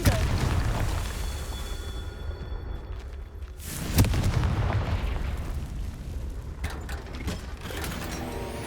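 A Confringo fire spell bursts in Hogwarts Legacy: a deep, broadband blast with a sharp boom near the middle, set within a continuous rumbling layer of game effects and mechanical noise.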